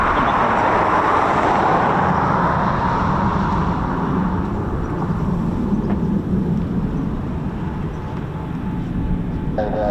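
An RAF military jet, a Typhoon FGR4 or F-35B, departing from the air station, a loud sustained roar that fills the whole clip and eases slightly toward the end, with no talking.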